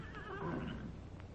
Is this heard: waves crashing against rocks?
no